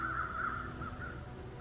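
Crows caw in the wilderness of The Long Dark, a few harsh repeated calls at moderate distance over a steady low ambient bed, with no talking.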